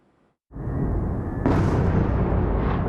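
Missiles streak over Kyiv during a Russian assault: after a brief near-silence, a loud, sustained roaring rush begins abruptly and then swells brighter and stronger partway through.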